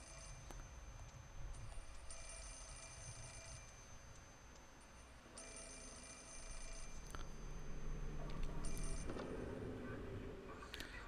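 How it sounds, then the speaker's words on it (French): A telephone rings in the Project Zero horror video game, its bell sounding in repeated bursts separated by pauses over a quiet, eerie ambient background. "on va vite décrocher le téléphone"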